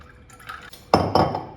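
Water poured into a glass holding thick mango squash and ice cubes, a short splashing pour with bright clinks and gurgles, close and brief.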